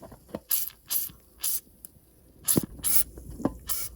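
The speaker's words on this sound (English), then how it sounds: "I'm going to use some PB Blaster here and carefully spray the bushing" PB Blaster penetrating oil is sprayed onto a stuck boat outdrive bushing in a series of short, close hissing bursts, roughly eight quick sprays separated by brief pauses and faint clicks.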